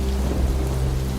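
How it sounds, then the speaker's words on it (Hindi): Heavy rain pours with a low rumble of thunder in an animated fairy-tale scene, a dense steady wash of sound with a deep continuous drone underneath. "अचानक बिजली कड़कने लगी और तेज बारिश भी शुरू हो गई"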